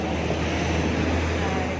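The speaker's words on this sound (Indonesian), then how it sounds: "Hari ini Hong Kong sangat kencang anginnya ya" A strong storm wind rushes through a Hong Kong street during a level 8 typhoon signal, giving a steady, dense roar with no letup.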